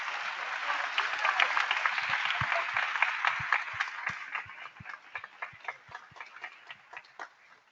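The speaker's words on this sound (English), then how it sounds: "we should give all of the finalists one more round of applause." Crowd applause for speech contest finalists, dense and steady at first, then thinning out into scattered individual claps that fade toward the end.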